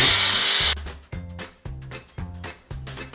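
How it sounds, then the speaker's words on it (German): A Magic Mixer blender chops flaxseed, starting with a loud whirring rush that cuts off into a series of short, evenly spaced motor pulses. "Der wird unsere Kleinsamen klein hacken."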